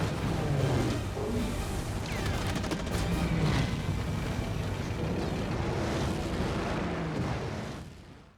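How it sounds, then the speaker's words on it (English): Deep rumbling blasts and crashing booms of film special-effects explosions for Pearl Harbor (2001) roll one after another, heavy and resonant, fading out at the end. "Special effects supervisor John Frazier was in charge of creating the explosions."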